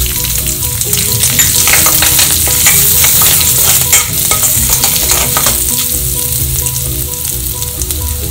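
Mustard seeds, fenugreek, curry leaves and asafoetida sputter in hot sesame oil for a Madurai-style raw banana kuzhambu, giving a loud, steady crackling sizzle with stirring scrapes throughout and no talk.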